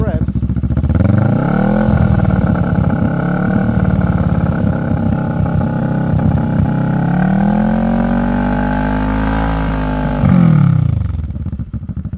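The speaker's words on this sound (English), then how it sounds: "let's just give it some revs." A modified Kawasaki Vulcan 650 S motorcycle engine idles with a loud throbbing rumble, revving up in slow swells and easing back down several times, close by.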